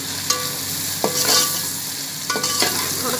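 Ginger-garlic paste fries in a pan for a chicken and bitter gourd curry, giving a steady sizzle. Occasional stirring clinks and scrapes cut through it, with soft music playing underneath.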